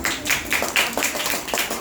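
Schoolchildren in a Grade 2 classroom clap together in a quick, steady rhythm of about four claps per second, loud and close, with a faint voice underneath.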